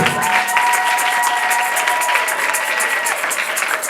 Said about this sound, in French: acclamez pour Dieu